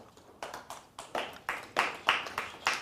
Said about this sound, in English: that's a sorry applause